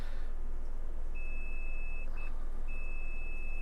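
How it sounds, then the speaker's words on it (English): Sustained electronic beeps from a multimeter testing FETs in an Alpine MRV-1507 amplifier under repair, one long tone, a brief chirp, then another long tone, over a steady low hum. "you might hear a beep every once in a while because I'm actually turning the FETs on with the meter"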